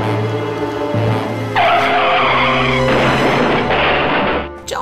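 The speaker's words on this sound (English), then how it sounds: "She leaves the house and is taken out by the slowest deadly car crash ever recorded." A car's tires skid and squeal loudly and continuously during a movie car crash scene, a harsh sustained screech with shifting pitch that cuts off abruptly at the end.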